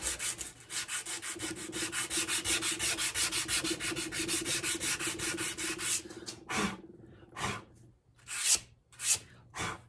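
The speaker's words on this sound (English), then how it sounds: "Grab my sandpaper." Sandpaper rubs across wood for a DIY boho-style wooden sign, starting as a steady run of quick, even back-and-forth strokes, then slowing to a few separate, scratchy passes near the end.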